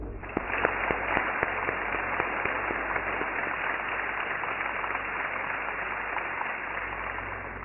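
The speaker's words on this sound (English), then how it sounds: "I hope that we give him a big round of applause." A crowd applauding at a book launch event, continuous steady clapping with a few sharper individual claps standing out near the start, holding at an even level throughout, no voices heard.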